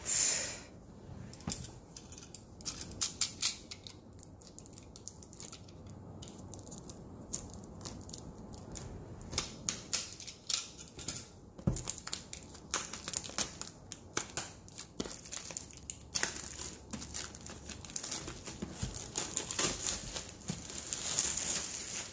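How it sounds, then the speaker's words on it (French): A diamond painting kit box is opened close by, giving dense crinkling, tearing and tapping of cardboard and plastic in irregular clicks and rustles with no speech. "Donc je vais ouvrir la boîte."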